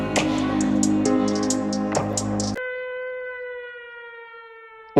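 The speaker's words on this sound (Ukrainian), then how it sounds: "Увага! Повітряна тривога." An air raid siren rises into a long, steady wailing tone after a stretch of loud mixed sound with sharp hits, holding alone and fairly loud to the end.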